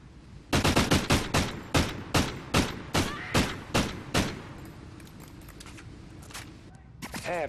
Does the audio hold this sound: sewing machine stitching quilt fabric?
no